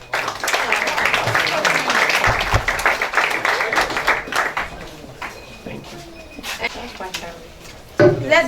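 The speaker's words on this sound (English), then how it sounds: "Let's give him a round of applause." Audience applause at a school robotics competition grand finale after a speech, a broad crowd clapping that runs strong for several seconds, then thins and tails off with scattered claps and murmuring voices underneath.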